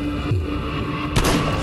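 Shotgun fire in the zombie game Night of the Living Dead, one loud blast about a second in over a steady hum of game background, preceded by a softer thump.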